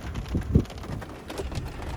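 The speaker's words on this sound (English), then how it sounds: "And now it's raining." Rain falls at night in a canyon on a ranch, a dense, steady patter with a few heavier thumps of drops striking close by. No one speaks.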